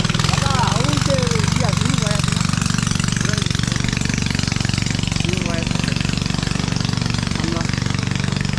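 Steady, loud chugging drone of a boat engine on a river crossing in Bandarban, running continuously throughout with a rhythmic pulse; a voice calls out briefly near the start over the engine.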